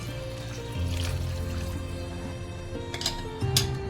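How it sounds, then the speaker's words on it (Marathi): Hot water poured into broken wheat khichdi in a pan, a gentle trickling pour that starts after a brief pause and continues softly, with a couple of small clinks near the end. "आणि ऍड करूया गरम पाणी."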